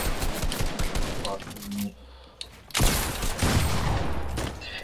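Pump shotgun blasts in the Fortnite battle royale video game, a cluster of sharp loud shots early on, then a brief lull and another burst of heavy gunfire, with a player talking over it.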